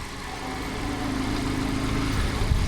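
A motorcycle engine hums steadily at moderate distance, a low continuous drone mixed with wind rush as the bike climbs through hills in cold winter weather.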